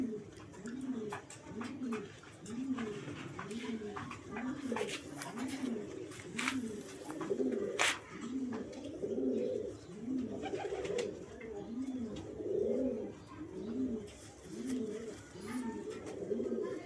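A pair of Teddy pigeons coo steadily and close by, their soft rolling coos repeating in a regular rhythm throughout, with faint chirps and light background noise.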